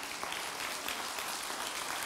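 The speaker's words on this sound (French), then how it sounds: "Vous pouvez les applaudir, ils font partie du club élite" Faint, brief applause rises from guests at LGM Immobilier's sixth-anniversary celebration, with soft, even clapping throughout.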